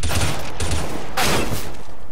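Loud, continuous automatic gunfire in a shooter video game during a tournament match, sustained bursts filling the moment with a sharp surge near the middle.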